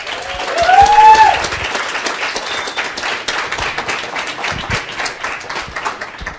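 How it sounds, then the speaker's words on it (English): A conference audience at a tech-industry panel breaks into a warm round of applause for a speaker. Dense, steady clapping fills the room with a brief whistle or cheer early on, and it stays loud throughout without easing off. "Let's give a warm round of applause for Bianca Sarah Wolf,"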